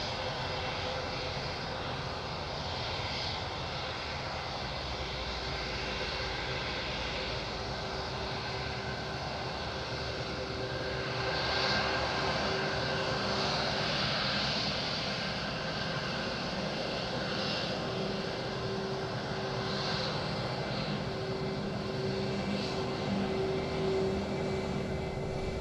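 A Finnair airliner at Madeira Island Airport gives off a steady, broad jet engine roar that holds for the whole stretch and swells slightly partway through, heard from a distance with no talk.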